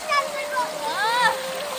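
A young child splashes water while bathing outdoors in a field, close and fairly loud, with a voice and adult talk over the watery sound.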